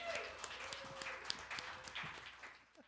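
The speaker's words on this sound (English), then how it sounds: "Let's give him a round of applause because he killed it." A crowd claps and applauds for a host, a soft, somewhat distant patter of many hands that holds steady and then thins out toward the end.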